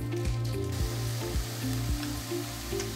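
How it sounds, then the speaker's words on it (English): Butter and mushrooms fry in a pan for a risotto, giving a steady close sizzle broken by faint stirring scrapes, with no talk. "I'm going to add about a tablespoon of butter into my mushrooms"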